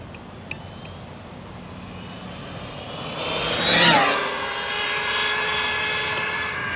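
A blacked-out Arrma Typhon RC car rips past at high speed at night, its whining motor swelling as it approaches, peaking, then dropping in pitch as it races away down the road; no talking.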